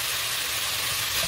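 Chopped hard vegetables for Thai tom yam soup sizzle in a hot pan, a steady, close, dense frying hiss with no pauses and no voices.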